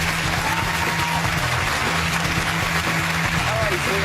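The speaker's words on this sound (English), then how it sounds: "Give her a round of applause." Studio audience applause on a daytime talk show, a steady dense wash of clapping at constant loudness with some voices and a low hum mixed in.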